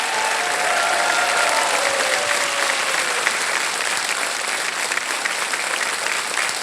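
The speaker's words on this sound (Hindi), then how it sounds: "एक बार फिर तालियों के साथ इनका स्वागत करें" A large TV game show studio audience claps loudly and continuously, a dense, steady wash of applause with no pauses.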